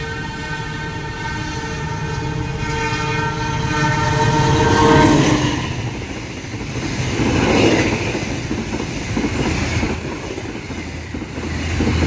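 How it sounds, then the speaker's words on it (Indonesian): A Taksaka express passenger train from Gambir to Yogyakarta passes on the railway, opening with a long, loud multi-tone horn blast, then a sustained rushing roar of wheels and carriages going by close at hand. "dua kereta api Sawunggali dan kereta api Taksaka sudah berhasil menyusul kereta api Kuto Jaya Selatan tambahan"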